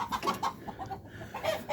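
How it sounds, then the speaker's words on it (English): Several roosters and hens on a farm cluck and call in overlapping bursts at close range, with short rising vocalizations repeating through the moment and no full crow standing out. "I think the two roosters just met each other."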